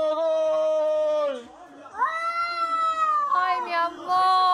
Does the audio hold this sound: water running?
no